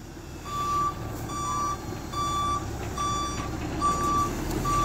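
Reversing alarm on a Mahindra Blazo 31 tipper truck under clutch repair, beeping in a steady rhythm of about six evenly spaced tones over a continuous rumbling engine, fairly close and clear.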